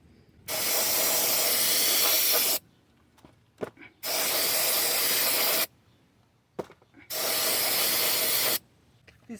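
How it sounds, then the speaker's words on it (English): Carburetor cleaner sprayed from an aerosol can during brake work on a 1996–2004 Nissan Pathfinder, three loud, steady hissing bursts of about two seconds each, separated by short pauses with faint handling clatter. "This is a carburetor cleaner"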